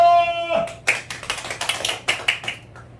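Congregation at a Sunday Baptist church service breaks into a burst of hand clapping after a sustained tone fades, with sharp irregular claps building for a couple of seconds.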